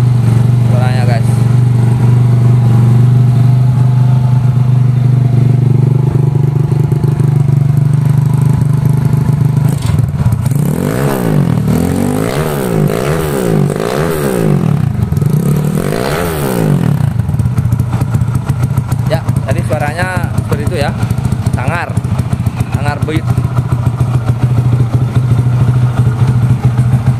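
Honda C70 motorcycle engine fitted with a YX160 magnet runs steadily nearby, a rattly idle that briefly revs up and settles back down, while people talk over it.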